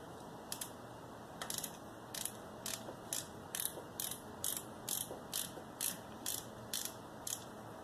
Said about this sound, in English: what I'm going to do now is get the 10mm and loosen the timing belt tensioner